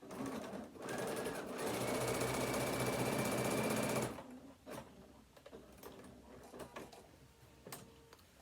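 A sewing machine runs steadily for about four seconds, stitching a row on a fabric phone stand, then stops, leaving faint handling clicks and soft rustles.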